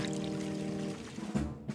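Water pours steadily in an animated firefighter cartoon during a barbecue fire, a faint continuous stream that breaks off into splashy bursts near the end, with no talk.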